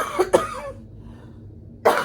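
Two quick coughs from someone with a cold, close and sharp, then a brief pause and another cough, with no talking.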